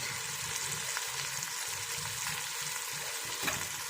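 Red chili, mustard powder and salt fry in a pan for aloo gosht shorba, giving a continuous close sizzle with soft scraping from stirring.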